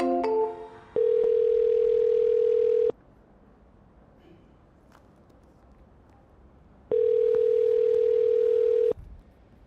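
A steady telephone dial tone sounds twice, each a loud, continuous hum of about two seconds separated by a quiet gap of line noise.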